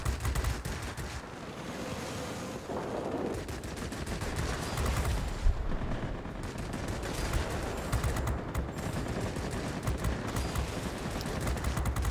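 Aircraft cannons firing in the combat flight game World of Warplanes, a dense, continuous rattle of rapid shots under steady engine and wind-like roar, loud and sustained throughout.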